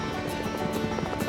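A helicopter flying overhead chops in a fast, steady rotor rhythm, a continuous pulsing thump at moderate volume.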